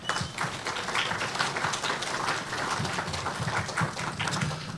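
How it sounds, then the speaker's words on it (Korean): An audience applauds steadily throughout to welcome a university president at a Kyung Hee University special lecture, a dense continuous patter of many hands with no voices over it. "큰 박수로 환영해 주시기 바랍니다"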